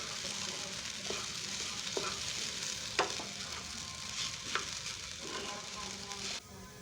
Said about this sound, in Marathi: बटाटे नीट शिजल्यावर त्यामध्ये साबुदाणा घालून घेतला. पुन्हा एकदा नीट परतवून घेतले.